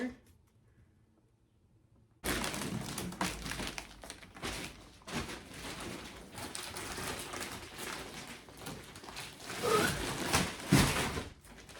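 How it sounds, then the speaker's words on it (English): A plastic cover is cut and torn away from flat-pack sofa packaging, producing loud, continuous crinkling and rustling up close after a quiet opening, with faint talk in places. "Carefully cut away plastic cover."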